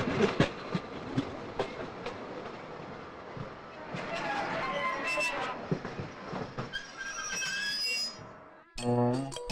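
A passenger train runs along, heard from inside a compartment: a continuous rolling rumble with rhythmic wheel clicks and a brief squeal near the end, under conversation between passengers.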